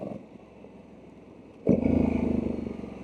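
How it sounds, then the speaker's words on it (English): A Honda Africa Twin 1100 adventure motorcycle with automatic transmission idles low, then a quick downshift brings a sudden, louder rise in engine revs that holds steady and close. "Nice little downshift there."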